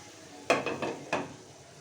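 A metal lid is set over a pan of bottle gourd curry cooking on medium heat, making a few quick clanks and rattles close by over a faint background hiss.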